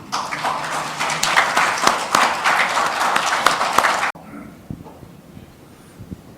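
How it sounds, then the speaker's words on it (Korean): Applause from a forum audience welcoming a speaker, dense clapping for about four seconds, then cutting off abruptly to near silence with a few faint scattered claps. "큰 박수로 모시겠습니다"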